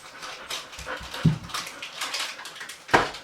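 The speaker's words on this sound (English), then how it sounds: "You could hear the dogs panting in the background." A dog pants and whimpers nearby in short breathy bursts, with a couple of soft yips and no talking.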